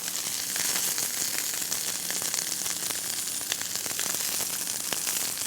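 A slice of beef sears in a pan for a tajine-style dish, making a continuous bright sizzle with scattered crackling pops, close and steady without talk.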